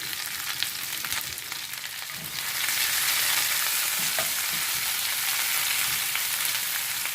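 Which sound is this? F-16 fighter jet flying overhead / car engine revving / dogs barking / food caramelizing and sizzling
food caramelizing and sizzling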